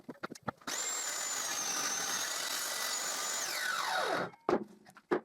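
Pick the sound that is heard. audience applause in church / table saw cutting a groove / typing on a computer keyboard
table saw cutting a groove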